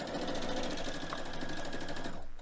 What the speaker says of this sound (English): put your presser foot down and start sewing the next edge